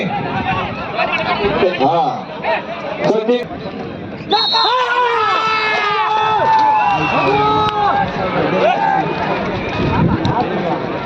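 A large crowd gathers at a state-level bullock cart race in Ratnagiri, its loud babble and shouting carrying on steadily with excited cries rising and falling, while talk runs over it.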